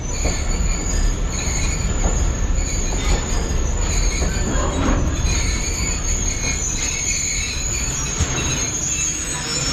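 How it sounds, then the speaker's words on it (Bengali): A train at Rohanpur railway station rumbles loud and close, its wheels squealing steadily on the rails with a constant rolling roar and no talk. "আমরা এই পাশে দেখতে পাচ্ছি ভারত থেকে যে সকল মালগাড়িগুলো আসে"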